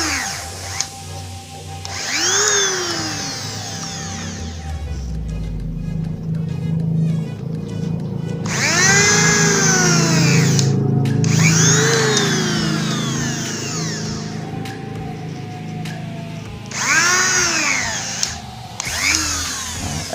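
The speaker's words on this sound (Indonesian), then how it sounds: "Enaknya kita punya bor kecil seperti itu teman-teman" A small electric drill runs in several short bursts while a wire dove trap cage is assembled. Its whine rises and falls with each pass, broken by brief pauses, close and moderately loud.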